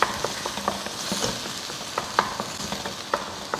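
Juicy desi tomatoes frying in a stainless steel pan while a spatula stirs them, a steady soft sizzle broken by repeated scraping taps and clinks close by.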